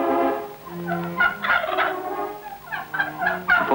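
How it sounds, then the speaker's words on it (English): Pembrokeshire farm turkeys gobble in a loud, close chorus of rapid warbling calls, several birds overlapping in bursts with brief gaps between. "Pembrokeshire turkeys."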